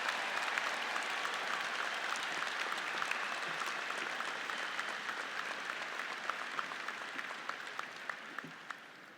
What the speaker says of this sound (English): Let's give the class of 2023 a round of applause.